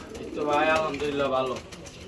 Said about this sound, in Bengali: আজকে সব কালারিং কবুতর আছে